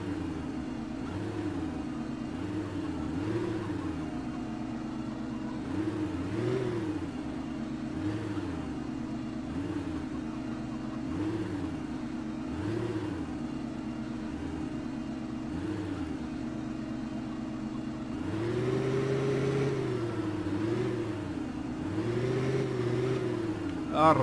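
A tractor engine in Farming Simulator 2015 hums steadily, its pitch rising and falling in repeated cycles as it works, then swelling louder near the end, with a voice talking over parts of it.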